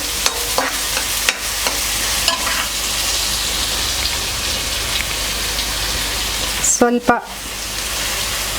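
Chopped onion fries in a pan for tawa pulao, a loud crackling sizzle with occasional utensil knocks and a burst of clattering near the end, while a voice briefly speaks.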